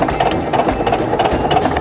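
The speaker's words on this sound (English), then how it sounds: "I'm making my third pass." A sewing machine runs steadily at slow speed as it stitches a zip top bag, a close, even mechanical rattle and hum with no voice over it.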